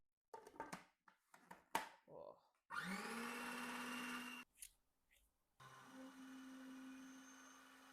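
A food processor whirs loudly as it churns hazelnuts into paste, running steadily in two long bursts separated by a brief pause, with scraping and clattering noises before the motor starts.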